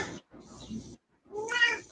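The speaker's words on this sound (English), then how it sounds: "Oh, there's a kitty." A pet cat named Sage gives a few short meows close by, separated by brief silences, the last one louder and more drawn out.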